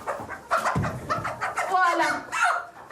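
Clucking from an Araucana hen, a blue bird with ear tufts, at an orchard poultry farm, with short fowl calls mixed under close conversational talk.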